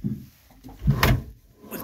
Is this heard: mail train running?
no